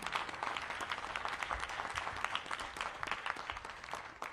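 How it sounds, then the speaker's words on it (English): Crowd applause at a downtown civic event, a continuous wash of many hands clapping, moderately distant and fairly quiet, sustained for several seconds with no voices over it. "So give yourselves a big round of applause."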